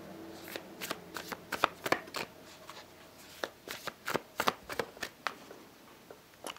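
A tarot card deck is shuffled in a run of crisp, rapid riffles and flicks, close and clear, with short pauses between bursts.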